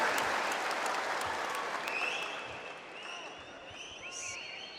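A large crowd at an Indonesian political party rally applauds steadily for a presidential candidate, a dense wash of clapping that slowly fades, with faint whistles and scattered voices rising near the end.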